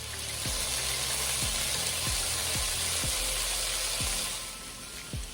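A steady, dense sizzle of carrots, onions and garlic cooking down in a pot for lamb stew, a continuous close frying hiss with faint low bubbling pops throughout.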